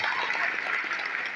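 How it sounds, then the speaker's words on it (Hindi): Applause from a seminar audience at a business event, a steady dense wash of clapping throughout the brief moment, close and fairly loud with no voices standing out. "एक बार दिल खोल के जोरदार तालियां मानसकर जी के लिए"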